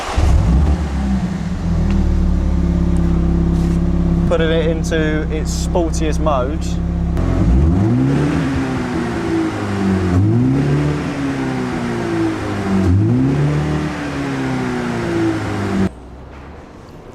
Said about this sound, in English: let's give both cars a quick little rev now